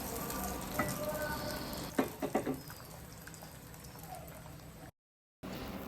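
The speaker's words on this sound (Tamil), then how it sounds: "மிதமான தீயில பொறுமையாக கிளறணும்." Ghee is stirred into a Chettinad ukkarai sweet mixture over medium heat, a soft frying sizzle with a few scraping stirs and light bubbling, fairly quiet and close, with a brief gap near the end.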